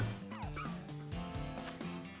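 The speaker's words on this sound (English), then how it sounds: "The Rockruff in the background, so cute, just barking at us in the fight" Rockruff barking during a battle in Pokémon Violet, a string of short, bright yips and yaps in quick succession, fairly faint and alone against quiet game sounds.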